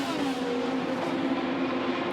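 IndyCar race cars at speed on the oval at Iowa Speedway, a loud, steady engine roar with a sustained high whine holding throughout, no talk over it.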